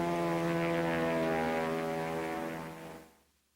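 World War II IL-2 Sturmovik ground attack aircraft propeller engine, a droning piston-engine tone that holds steady and then fades out quickly at the end.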